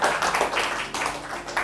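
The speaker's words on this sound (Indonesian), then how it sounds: "Tepuk tangan dulu dong buat kita semua." Seminar audience applauding at a morning banking session on digital security: dense, steady clapping from many hands, close and fairly loud, filling the short stretch with no voices.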